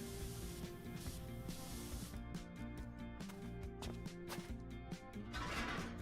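Steady broadband spray from a pressure washer in PowerWash Simulator, a continuous hiss of water layered over game music, with brief rhythmic clicking and a brighter burst of spray near the end.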